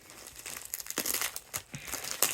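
A plastic supply bag for reborn dolls is ripped open by hand, giving a run of sharp crinkling, tearing bursts that come close together and grow louder toward the end, with no talking.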